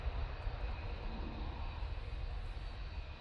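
A TUI Boeing 737 MAX 8 rolls for takeoff at Manchester Airport, a steady low jet-engine roar heard from a distance, continuous and fairly faint with no voices over it.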